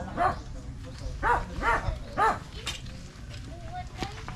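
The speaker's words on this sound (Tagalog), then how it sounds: "May aso dyan" A few barks from a dog at moderate distance, spaced irregularly, while people talk over and between them.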